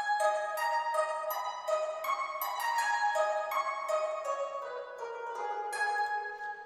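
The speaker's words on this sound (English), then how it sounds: "So this is the guzheng. It's a relative of the koto." Guzheng sample preset, a Chinese zither related to the koto, playing a steady stepwise pattern of plucked notes, one per beat, bright and ringing with overlapping decays, moderately soft and alone.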